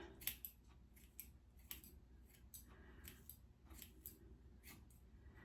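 Scissors snip through hair in a quiet room as a stylist softens and trims pieces out, a series of light, irregular metallic clicks close to the ear with no talking.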